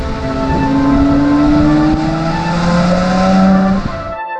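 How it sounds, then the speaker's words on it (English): A Mercedes-AMG C 43 Coupé engine with a smooth, rising exhaust note, revving steadily up through the gears for several seconds before cutting off abruptly. "It is very much Mercedes-AMG sound."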